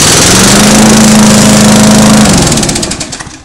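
A small engine with freshly lapped valves runs loud and close with a smooth, even buzz, then winds down and sputters toward a stop near the end.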